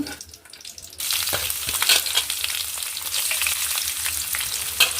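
A thinly sliced large onion and dried red chillies hit hot oil in a pan, the sizzle bursting on after a quiet start and staying strong with stirring clatter, no voices.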